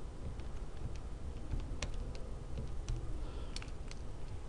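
Quick, light button taps on a calculator as numbers are keyed in, a steady patter of small clicks close by over a low background hum.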